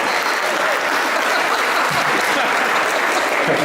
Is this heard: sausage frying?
no